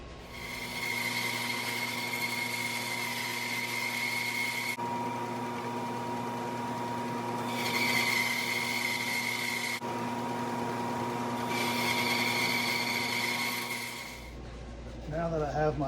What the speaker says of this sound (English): The next thing that I need to do is to resaw on the bandsaw.